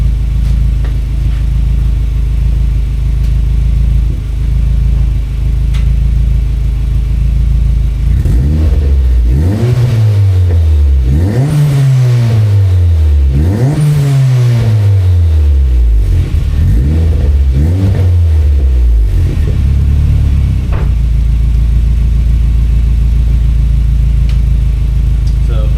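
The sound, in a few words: car engine revving with muffler exhaust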